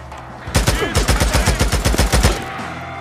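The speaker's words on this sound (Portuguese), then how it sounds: "Quem é que tá atirando, mano?" Gunfire in the video game Days Gone comes as a rapid automatic burst of a dozen or more loud, close, evenly spaced shots lasting about two seconds after a brief quiet lead-in.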